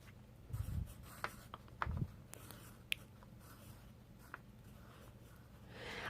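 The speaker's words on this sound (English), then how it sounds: "I always write it out in pencil first." A pencil scratches faintly on paper while lettering is sketched for an acrylic and gesso faith art journal page, with soft intermittent strokes and small taps in a quiet room.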